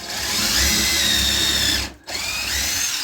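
A power drill drives a screw into wood with a loud, steady whine held close, broken by one brief stop before running on again.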